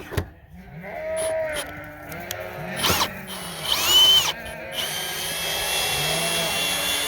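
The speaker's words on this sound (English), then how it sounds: "So I don't know if I have the drill in the right direction." A power drill whirs in short bursts, then runs steadily as it winds down a sheep barn curtain, with sheep bleating nearby.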